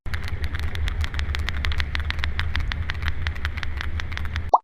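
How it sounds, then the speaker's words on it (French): A sperm whale clicking in a steady, rapid train of sharp broadband clicks over a low rumbling background, ending with one brief louder tone. "It's the sperm whale."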